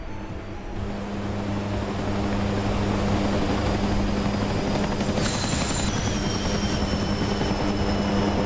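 A Chinook twin-rotor helicopter in a video game roars as a loud, steady drone that swells in the first second and then holds constant throughout, with no voices.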